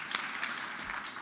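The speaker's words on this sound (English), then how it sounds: "The applause there wasn't as enthusiastic as I expected." An audience at a sold-out philanthropy luncheon gives polite, fairly faint applause, a steady wash of clapping heard from a distance.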